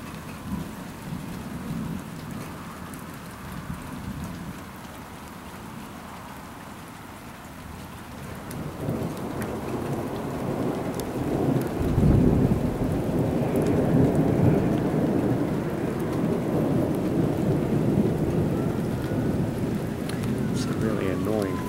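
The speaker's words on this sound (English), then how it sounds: "It's a really annoying thunder." A strong thunderstorm over Hampton Roads on a June evening: steady rain hisses throughout, and deep rolling thunder swells and lingers in the second half. The storm sounds close and continuous, with no talk.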